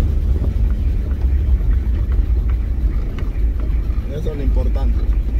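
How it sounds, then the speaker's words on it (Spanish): A car driven by a learner rumbles steadily with a low engine drone and road noise from inside the cabin, while people talk over it. "ahorita lo importante es que ando manejando"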